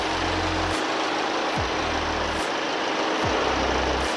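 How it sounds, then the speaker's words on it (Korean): An Audi A4 40 TFSI car engine idles steadily with a low, even hum and faint periodic pulses, heard up close in the engine bay with no talking. "엔진 소리 일정하고 좋습니다"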